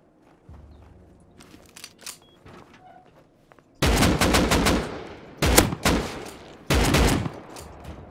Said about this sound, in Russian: Что-то там по кому-то стреляют